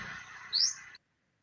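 A single bird chirps outdoors, one short rising tweet over soft background noise, close and fairly clear, followed by silence.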